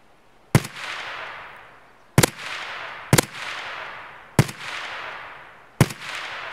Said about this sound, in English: Few more shots to make sure he's really dead.